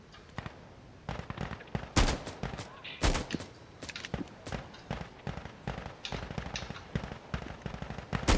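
Rapid automatic gunfire in the shooter game Insurgency Sandstorm, dense rattling bursts with a few louder sharp cracks, continuous and close throughout.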